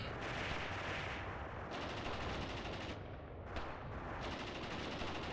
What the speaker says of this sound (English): Enemy AT rifle firing from there.